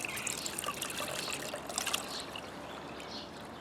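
Water washes over micro fine gold concentrates in a soft, steady trickle that runs close but faint throughout.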